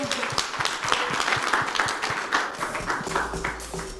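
Steady applause from an audience at a health and climate hackathon event as an innovator is welcomed to the stage, moderately faint clapping running continuously with a low hum at the end.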